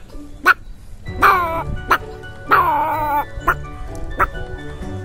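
A human voice imitates a grown puppy barking, a close series of short yips mixed with two longer whining cries, uneven in rhythm and fairly loud.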